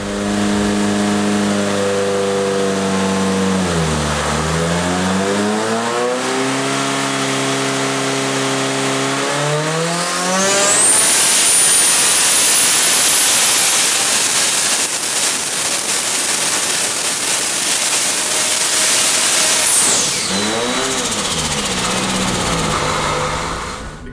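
A tuned engine making 1,035 horsepower on 40 pounds of boost revs up toward 9,000 RPM at a shop competition. Its loud, rising roar swells into a sustained high turbo whine that holds for several seconds before falling away.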